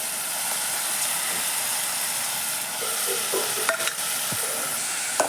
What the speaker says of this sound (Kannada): ಬದ್ನಿಕಾಯಿಗೆ ಒಗ್ಗರಣೆ ಕೊಟ್ರಿ ಎಣ್ಣೆ ಜೀರಿಗೆ ಹಾಕಿ ಈಗ ಬೇಯಿಸಿಟ್ಕೊಂಡಿರುವಂಥ ಬದ್ನಿಕಾಯಿ ಮತ್ತೆ ಉಳ್ಳಾಗಡ್ಡಿನ ಹಾಕ್ಬಿಡ್ತಾರೆ